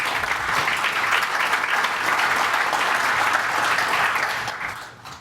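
An audience at a storage developer conference breaks into steady, full applause to welcome a presenter on stage, with clapping that stays even for about four seconds before fading out at the end.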